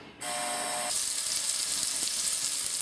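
A pork chop fries in a pan, a loud, bright, steady sizzle that starts abruptly and holds close and continuous, with a brief tonal hum at the start and no talking.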